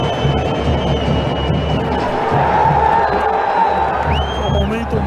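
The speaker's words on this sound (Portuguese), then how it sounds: "A torcida vaia toda vez que a Aranha pega na bola." Stadium fans boo goalkeeper Aranha every time he touches the ball in a Grêmio match, making a continuous loud crowd roar with scattered whistles and shouts rising above it.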